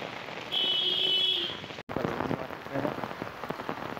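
Steady monsoon-season rain pours down with a dense, hissing patter on surfaces, briefly interrupted by a cut before continuing with louder splashes; no one talks.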